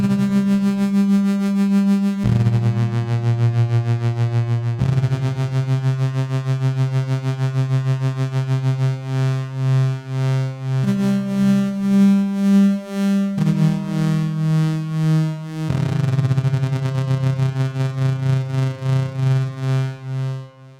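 Softube Model 77 plugin emulating a CS80 synthesizer plays a sustained, harmonically rich tone that steps between pitches every couple of seconds with a pulsing, rate-shifting modulation, heard alone without talk.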